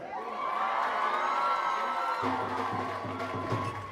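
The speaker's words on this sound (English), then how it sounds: "Everybody give him a big round of applause." Wedding reception guests cheer, whoop and applaud as a crowd, a dense sustained roar close by that holds steady across the whole stretch with a lower rumble joining partway through.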